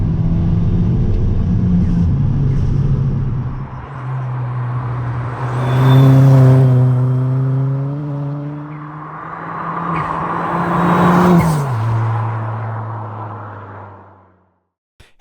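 A Ford Fiesta ST Stage 2 hatchback driving hard, its engine rumbling and climbing in pitch through two long pulls with a shift between them, loud and close, then dropping away to quiet near the end.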